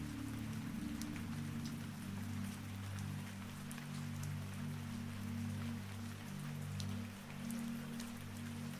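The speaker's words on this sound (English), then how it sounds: "Rain taps softly against the panels while dock lights pass beside you at a slightly lower level." Rain patters steadily on the glass panels of an enclosed boarding walkway by a ferry quay, a soft continuous hiss with faint scattered taps over a low steady hum.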